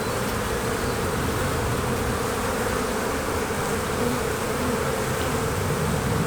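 Honey bees buzz steadily around an open hive box during a spring inspection, a dense, continuous swarm drone close by with no voices over it.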